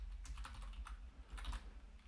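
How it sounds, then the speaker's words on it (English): Computer keyboard typing, close and clear, with quick irregular clusters of key clicks and a short pause midway, no voice over it. "I'm not sure if I'm typing bicycle correctly, probably not."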